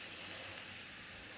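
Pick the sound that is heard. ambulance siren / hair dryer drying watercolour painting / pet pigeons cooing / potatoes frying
potatoes frying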